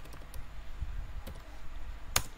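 A few scattered keystrokes on a computer keyboard as a command is typed into the Windows command prompt, faint, soft clicks spaced over a quiet background hum.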